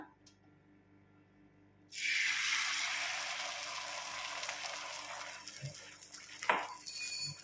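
Beaten egg hits an oiled hot tava and breaks into a bright, steady sizzle that fades slowly, with a couple of soft utensil scrapes and taps as it is spread.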